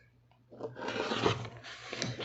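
Fabric is trimmed on a patriotic star quilt block: a soft, steady rasping cut lasting about two seconds, close and fairly quiet, with no talking.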